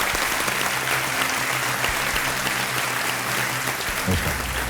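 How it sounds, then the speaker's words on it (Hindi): A studio audience on a quiz show applauds to welcome a contestant, with loud, steady clapping throughout and a brief voice or music cue near the end. "आइए, तालियों के साथ आपका स्वागत करते हैं।"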